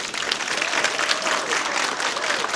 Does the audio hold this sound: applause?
yes